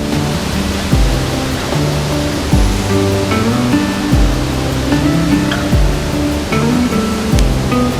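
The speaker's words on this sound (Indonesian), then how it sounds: "Nah, itu sungainya teman-teman, betul-betul bagus." A river with a strong current flowing, a loud, continuous rushing roar of water close by, with no voices.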